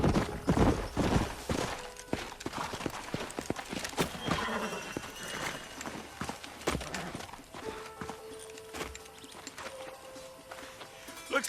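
Clip-clopping horse hooves on hard ground in Red Dead Redemption 2, an irregular clatter of several steps close by, with occasional snorts and faint voices.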